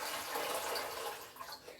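Water splashing and pouring steadily into a cooking pot in a home kitchen, readied for boiling to cook traditional milk kozhukattai, a close, continuous hiss-like pour with slight bubbling toward the end.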